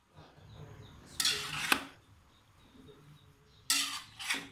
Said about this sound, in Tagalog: Yan, magsimula po tayo maghalo